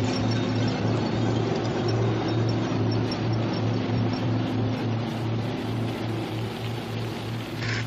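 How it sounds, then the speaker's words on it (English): Many propeller airplanes fly overhead in a 1965 war drama scene, producing a loud, continuous droning roar with a pulsing, throbbing beat that holds steady throughout, with no voices over it. "Sounds like a lot of planes."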